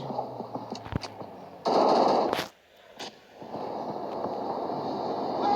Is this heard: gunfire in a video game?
yes